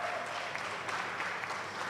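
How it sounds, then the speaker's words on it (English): A conference crowd at a fintech event in Nigeria applauds a speaker, giving a steady, moderately loud wash of many hands clapping throughout. "A round of applause for Gbolahan Atoyebi."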